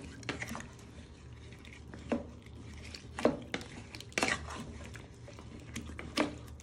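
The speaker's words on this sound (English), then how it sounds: "then you want to give it a good stir. So it all coats in." Winter vegetable soup ingredients being stirred in a pot, soft scraping and clinking knocks of a spoon against the pot spaced a few seconds apart, fairly faint and close with no talking.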